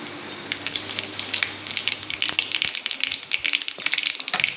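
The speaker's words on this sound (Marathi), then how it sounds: "तेल गरम झालेलं आहे याच्यामध्ये आपण थोडीशी मोहरी जिरं" Mustard seeds and cumin sizzle and pop in hot oil, a steady bright crackle with dense, irregular spitting bursts close up, with no voice over it.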